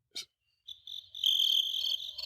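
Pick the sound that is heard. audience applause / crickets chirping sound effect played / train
crickets chirping sound effect played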